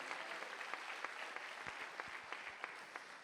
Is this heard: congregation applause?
yes